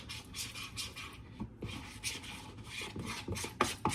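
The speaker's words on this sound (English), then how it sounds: "Make sure you scrape down the sides of your bowl too to get all the powdered sugar off the sides of there." A spatula scrapes powdered sugar frosting down the sides of a mixing bowl, making repeated close rasping strokes with a few light knocks near the end and no talking.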